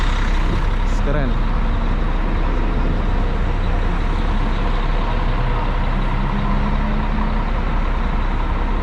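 A bus engine idles and rumbles loudly at Jakarta's Lebak Bulus bus terminal, amid steady station noise with other vehicles, a brief beep and air-brake hiss near the start.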